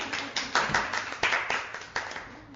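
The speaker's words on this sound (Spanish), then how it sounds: "Me aplaudieron los chicos por mi clase." A few students clapping for their teacher after class, a sparse, uneven patter of separate hand claps, fairly close and soft, with quiet voices in between.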